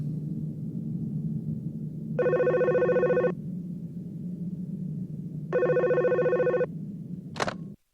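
Telephone ringing in the Hunter X Hunter anime, two electronic trilling rings about three seconds apart over a low background hum, ending with a brief click as it is answered.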